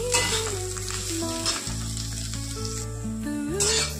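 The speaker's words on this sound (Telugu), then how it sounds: "ఇలా మధ్య మధ్యలో కలుపుతూ వేయించుకుంటూ ఉండాలి" Masala fries in a pan with a bright, continuous sizzle while it is stirred now and then. A low droning hum runs underneath.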